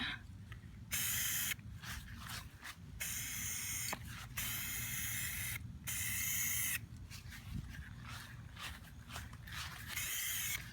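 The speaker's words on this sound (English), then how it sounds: "And boy, does this spray paint stink." A spray paint can sprays onto a Nerf gun in repeated bursts of hissing, each lasting a second or two with short pauses between, close up.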